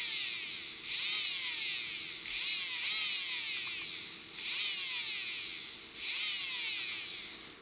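A rebuilt Le Mans 360ST small electric motor runs alone with a high, steady whine, surging in repeated bursts of roughly one and a half seconds as power is reconnected, close and fairly loud.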